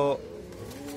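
A brief burst of pigeon cooing at the start, then a low steady hum with faint murmuring underneath.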